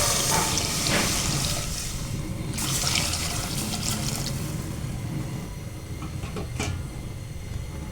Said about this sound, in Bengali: গরম পানিটা দিয়ে নিব।